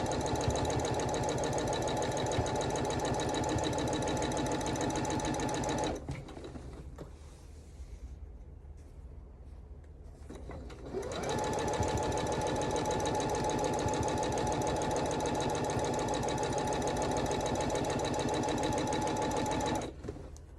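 A sewing machine runs steadily while stitching quilt blocks for a calico snails table runner, a loud continuous mechanical whir that stops for about five seconds in the middle, then resumes at the same pace.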